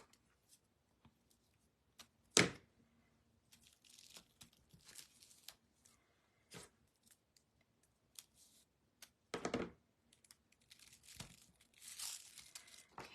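Tear-and-tape adhesive being handled on scrapbook paper for a layout: scattered soft crinkles and rustles, broken by a few sharper tearing and peeling bursts, with quiet gaps in between and no speech.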